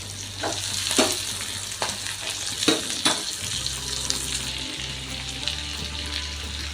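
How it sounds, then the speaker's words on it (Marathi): Mixed vegetables hit a hot pan of oil with curry leaves, chilli and ginger-garlic paste, giving a steady close sizzle broken by several stirring scrapes, with a low hum underneath. "आता यात मी आपल्या सगळ्या भाज्या टाकून घेणार आहे"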